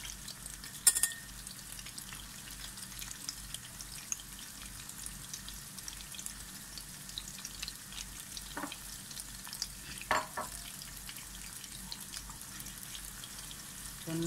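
Spicy hot sausages fry on a low flame in a pan, a faint, steady crackling sizzle with occasional small pops and light clicks, quiet and close, with no talking.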